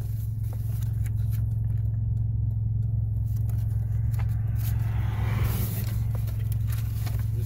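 A car with a loud aftermarket-style muffler idles nearby at a traffic stop, a steady deep low rumble holding constant throughout with faint background noise above it.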